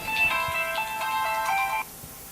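A mobile phone ringtone plays a bright, tonal electronic melody for nearly two seconds and then stops abruptly, loud and clear over a faint room background with no talking.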